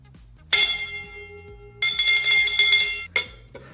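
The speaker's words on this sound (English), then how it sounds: "Good old prayer bell." A prayer bell is struck three times, each strike ringing out in a bright, shimmering tone that lingers before the next.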